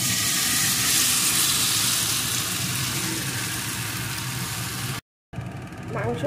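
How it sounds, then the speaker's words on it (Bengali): Marinated chicken curry meat frying in a hot kadai, a loud close steady sizzle with faint voice underneath, cut by a brief silence before quieter cooking sounds resume. "এখন ওই মাখানো মুরগির মাংসটা এর ভিতরে দিয়ে দেবো।"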